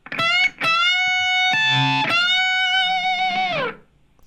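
A distorted electric guitar note is picked twice on the second string, then bent up a whole step and held with wide, wavering vibrato before fading out.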